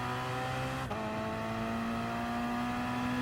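Gr.3 race cars in Gran Turismo Sport getting underway at a rolling start on the Nordschleife, a loud steady engine drone with rising pitch as they accelerate, plus a brief click or bump.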